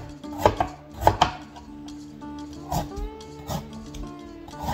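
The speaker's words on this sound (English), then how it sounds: "Get these taters ready. Just gonna poke some holes in them." Potatoes are poked with a fork before roasting, a series of sharp close taps and stabs in uneven bursts, no talking.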